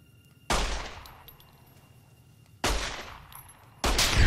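Three sharp gunshot blasts in Fallout: New Vegas, each a loud burst with a short decaying tail, the second and third spaced closer together, with no talking over them.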